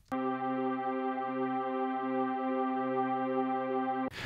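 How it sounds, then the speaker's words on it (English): A constant drone made from looped, resampled hybrid reverb audio for an amapiano beat, a steady sustained tone with a low pulsing hum, even and loud throughout before cutting off abruptly near the end. "you'll get a constant drone of noise"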